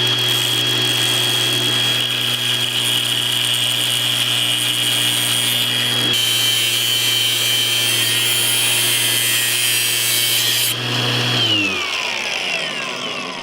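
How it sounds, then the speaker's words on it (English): An angle grinder cuts through the titanium frame of an iPhone 15 Pro, a loud sustained high whine with harsh grinding texture that shifts pitch midway, then spins down at the end, no speech. "No bond survives an angle grinder."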